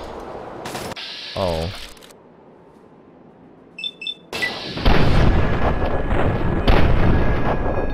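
Gunfire bursts in Fallout 3, with a short silence then loud sustained shooting and combat noise filling the last half, after a brief voice exclamation.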